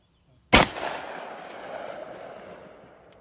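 An experimental shotgun round loaded with shower curtain rollers goes off outdoors in a single loud, close blast. The boom has a thumping body and a long fading echo trailing behind it.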